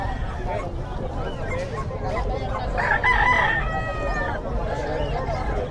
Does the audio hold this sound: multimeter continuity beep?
no